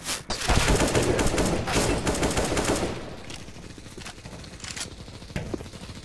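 Rapid automatic gunfire from a competitive first-person shooter match with bombs and armor, loud dense bursts filling the first few seconds, then thinning into scattered shots and distant fire.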